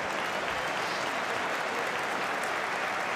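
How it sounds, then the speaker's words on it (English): Steady, dense applause from a large crowd of Swansea football fans at a night match, sustained and even throughout, with no distinct voices standing out. "And applause here from the Swans fans tonight"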